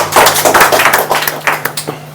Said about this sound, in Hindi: तो एक बार जोरदार तालियां अपने लिए बजाएं पहले।